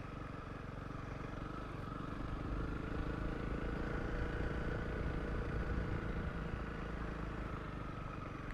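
A Honda CRF 300 Rally motorcycle rides a sandy dirt road through a nature reserve, its engine droning steadily and loudly throughout as it builds speed, with rough clatter from the track underneath.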